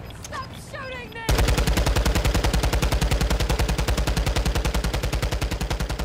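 Rapid automatic gunfire in Call of Duty DMZ bursts in loud and close, a sustained stream of evenly spaced shots after a brief voice at the start.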